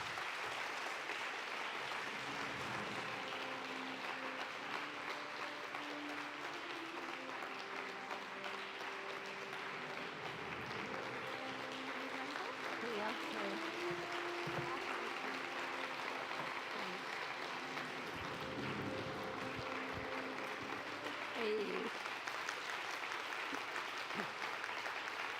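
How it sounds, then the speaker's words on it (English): A large conference crowd applauds to welcome Dr. Jane Goodall, a soft, distant, sustained clapping wash heard faintly over a room with low murmuring voices and a faint hum throughout. "Please give a big round of applause to Dr."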